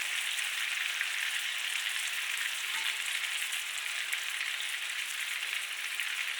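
Food frying in a pan with spicy butter garlic Cajun seasoning gives a steady, unbroken sizzle and crackle, even in level throughout, with no talking.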